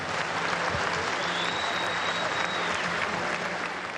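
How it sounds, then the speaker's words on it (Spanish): Loud, sustained applause from a large crowd at the farewell for former Uruguayan president José Mujica, a dense wash of clapping filling the whole stretch without a break. "Hubo un fuerte aplauso."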